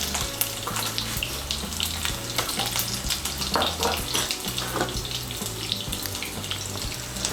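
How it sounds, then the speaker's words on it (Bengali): Boiled potato pieces with salt and turmeric fry in hot oil, giving a steady busy sizzle and crackle close by, with faint clinks and stirring over it and no talking. "দিয়ে আলুগুলোকেও আমি ভালো করে ভেজে নেব"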